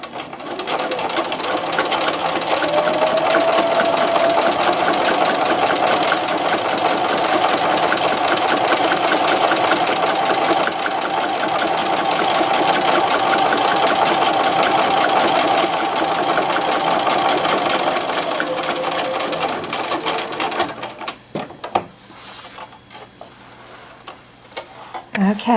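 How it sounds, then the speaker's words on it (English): Sewing machine topstitching a straight line of contrasting thread on fabric, running steadily and loudly for about twenty seconds before stopping, followed by quieter handling sounds. "we are going to sew a straight line of stitches about 1/8 of an inch to 1/4 of an inch away"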